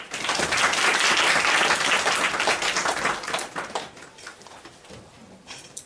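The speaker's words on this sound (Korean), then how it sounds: "함께 같이 목사님을 박수로 환영하도록 하겠습니다." A church congregation applauds to welcome a visiting pastor, dense clapping that swells loud at first and then thins out into scattered claps.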